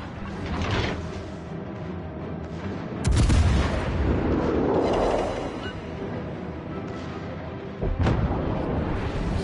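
Cruiser guns in a naval warfare game fire on a battleship, heavy booming salvos with a sharp blast near three seconds and another near eight, over a dense rumbling battle din.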